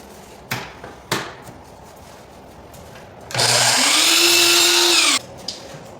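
A power saw makes a straight cut on crown molding, whining loudly for about two seconds after a couple of sharp knocks, then spinning down to quiet.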